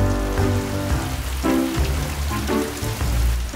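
Steady rain falls and patters on a surface, a continuous dense wash of drops with some low rumbling underneath, heard alone with no talking.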